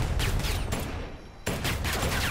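Rapid volleys of video game gunfire crackle in dense bursts, with a brief lull in the middle before the shooting resumes at full strength.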